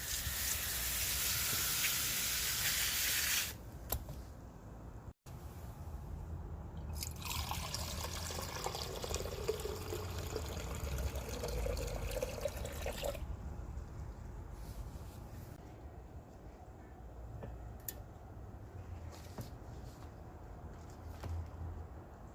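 Water pours steadily onto grass for several seconds with a splashing rush, then gives way to quieter trickling and scattered drips outdoors.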